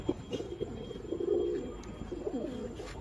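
A pigeon coos softly in low, rolling phrases, repeated several times at moderate distance over a faint background hiss, with no talking during the calls.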